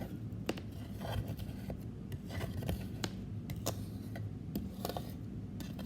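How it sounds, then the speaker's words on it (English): A scraper dragging leftover paint off a paint palette in faint, uneven rasping strokes with light ticks, quiet and steady throughout. "and the paint just scrapes right off."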